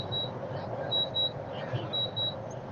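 Faint electronic beeps sound in the background at a gas station, coming in short repeated pairs over a low steady ambient hum.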